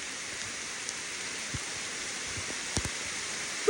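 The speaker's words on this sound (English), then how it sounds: "I guess it's pouring so much that the leaves are not doing much" Heavy rain pours steadily onto forest foliage on a backpacking trail in the Adirondack Park, making a constant even hiss with a few faint drips and taps. The sound stays fairly quiet and has no voices.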